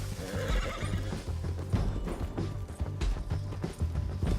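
A horse whinnies at close range over a steady clip-clop of galloping hooves in Red Dead Redemption 2, with mechanical game-like sounds mixed into the background.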